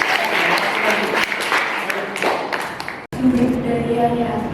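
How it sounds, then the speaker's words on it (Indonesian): Audience at a university lecturer certification session clapping, a burst of applause with speech over it, briefly cut off, then a voice continues. "kita berikan tepuk tangan ya."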